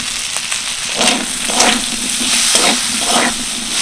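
Chopped capsicum and onion stirred into chicken and carrot in a pan, a loud continuous sizzle with repeated scraping strokes of the spoon every second or so.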